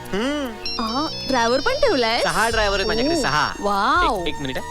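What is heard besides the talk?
mobile phone ringtone of an incoming call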